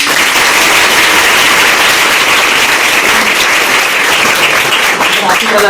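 An audience claps loudly and continuously at a gathering honouring local exam achievers, a thick, unbroken roar of applause close to the microphone, lasting the whole stretch.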